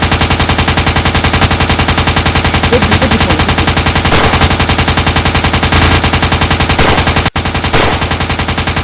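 Rapid automatic gunfire rattles without pause, loud and close, from a PUBG battle game. The fast even bursts run almost the whole time, with a brief break near the end.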